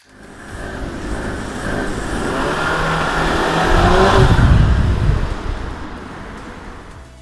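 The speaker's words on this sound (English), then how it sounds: "the vehicle's onboard computer will assist the driver to accelerate with maximum power and traction from a standing start" CUPRA Formentor launching from a standing start with launch control, engine note swelling steadily into a loud rising roar that peaks and then fades away, with no talk.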